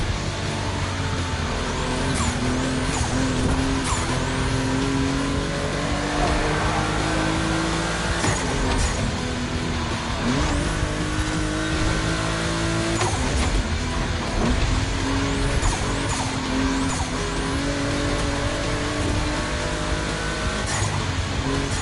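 Volkswagen race cars on a track in The Crew 2 Motorfest, with dense, continuous engine roar, rising and falling revs, and tire squeals as the cars pass. The sound stays loud and constant throughout, with no talking.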